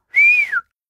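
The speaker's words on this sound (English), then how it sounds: "You can whistle!" A single clear whistled note, lasting about half a second, rises slightly, holds, then glides downward before stopping, loud and close with silence on either side.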